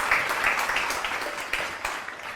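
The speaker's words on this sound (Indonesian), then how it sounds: "Ya udah beri tepuk tangan dulu dong semuanya dong." An audience at a student debate show claps together, a fairly close, steady burst of applause with sharp hand claps.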